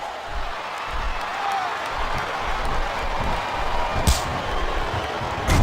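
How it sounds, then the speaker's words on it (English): A wrestling arena crowd in SmackDown vs Raw 2007, during a Rob Van Dam vs Umaga match, makes a constant loud wash of cheering and noise with occasional thuds and a brief sharp slap. "I think this crowd's giving these superstars a piece of their minds, King."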